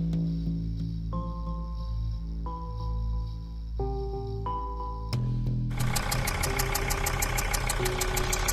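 An old car engine idles steadily after refuelling, a loud, continuous low rumble with some tonal hum; near the end a faster rattling pulse joins in.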